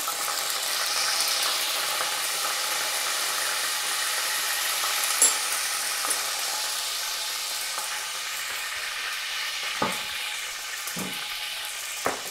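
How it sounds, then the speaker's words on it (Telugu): Curry leaves dropped into hot oil for a crab curry, giving a steady hissing sizzle close by with a few sharp crackles and pops, no voices. "ఆయిల్ హీట్ ఎక్కింది, మనము దీంట్లో కరివేపాకు వేసుకోవాలి."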